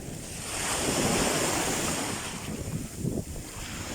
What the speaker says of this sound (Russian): Вот такие волны.